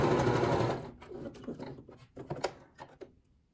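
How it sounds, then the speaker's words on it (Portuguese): Domestic sewing machine running a short seam along the sides of terry cloth toweling, a loud continuous motor burst for the first second, then fading into scattered light handling and fabric rustles. "Vou passar uma costura fechando as laterais"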